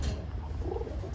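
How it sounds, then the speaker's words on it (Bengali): Pakistani pigeons offered for sale make soft, low cooing sounds amid steady background noise, which keeps the calls faint and muffled. "দেখেন সুপার কোয়ালিটির মধ্যে কবুতর দেখেন"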